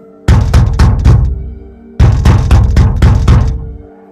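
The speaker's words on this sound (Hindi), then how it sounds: "मेरे ट्रक के दरवाजे पर कोई बहुत ज़ोर से नाक करता है।" Loud, close knocking on a truck door: two bursts of hard, rapid knocks, about four or five blows each, separated by a short pause, sharp and heavy with no voices.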